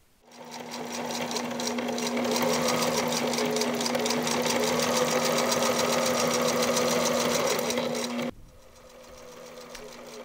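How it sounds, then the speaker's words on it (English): A sewing machine stitches around the edge of a Velcro strip on fabric for a pillow, a close, steady whirring hum with rapid needle ticking that runs about eight seconds, then stops abruptly, leaving faint room noise. "sew around the edge of the Velcro to keep it in place"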